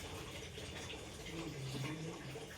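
Kinley bottled water is poured into a sample container for a water demonstration, a faint steady trickling fill that runs continuously for a few seconds close by, without any voice.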